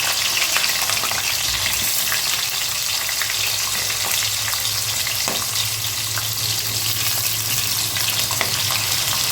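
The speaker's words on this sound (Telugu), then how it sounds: "ఆనియన్స్ మంచి కలర్ వచ్చే వరకు వేయించుకోవాలి." Onions sizzle and fry in hot oil with biryani spices for chicken biryani, a steady loud crackling hiss with occasional stirring scrapes throughout.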